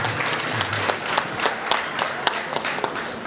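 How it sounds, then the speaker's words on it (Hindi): An audience at a community committee gathering claps loudly in a dense burst of applause, with a few sharper hand claps standing out as the clapping carries on without any speech. "तो इसलिए एक बार इनके लिए जोरदार तालियां तो बजाई दीजिए।"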